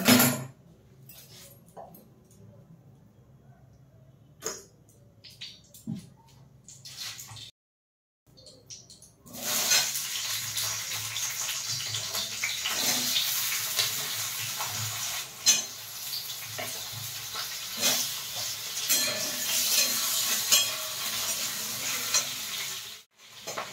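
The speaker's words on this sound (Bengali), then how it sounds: "এবার আলুটা ভেজে নেব।" Potatoes frying in a pan, first quiet with a few clinks and knocks, then a loud, continuous close sizzle with occasional stirring scrapes running on for over ten seconds.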